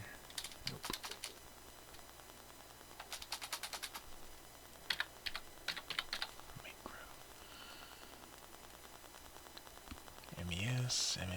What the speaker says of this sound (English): See if I can type it right out.